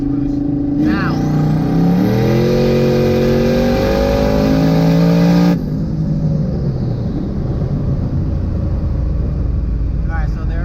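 A turbocharged car with a 6266 turbo and 4R200 transmission accelerates hard in second gear from a 50 mph roll, its loud engine note climbing steadily as boost builds, then cutting off abruptly into lower road noise.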